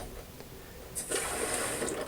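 Water rushes and hisses into a toilet tank through a newly replaced fill valve after a faint click, a steady close filling sound with no voices.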